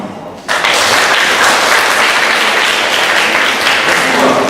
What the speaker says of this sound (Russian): Когда звучат аплодисменты для поэта, это бальзам на душу.